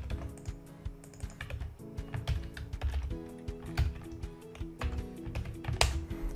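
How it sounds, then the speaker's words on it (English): Someone types steadily on a computer keyboard, producing a close, continuous patter of rapid key clicks with occasional heavier keystrokes and no talking. "So what I'm going to do is I'm going to type this value."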